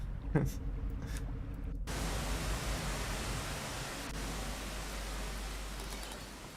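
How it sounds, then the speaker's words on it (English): Constant hiss of rain in the video game Rain World, a dense, even wash of noise that sets in after a short quieter opening and continues steadily to the end. "Oh, it's raining. I really don't like this."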